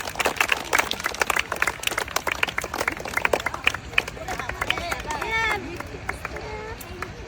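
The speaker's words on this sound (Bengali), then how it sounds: "আপুর জন্য সবাই একটা জোরে তালি হবে" Audience clapping for a blindfolded contestant at an outdoor game challenge: a dense burst of many hands clapping that fades after a few seconds, with people talking loudly over it and afterward.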